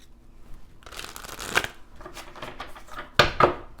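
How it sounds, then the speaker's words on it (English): Tarot cards being shuffled up close: soft riffling and flicking bursts, with a couple of sharper snapping riffles near the end, no voices. "Let me shuffle one more time."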